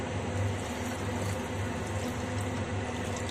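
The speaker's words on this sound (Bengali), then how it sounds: "এবার আমি জল দিয়ে দেবো" Water pours steadily into a pot of chicken curry, giving a continuous rushing, bubbling wash that stays even and close throughout with no voices.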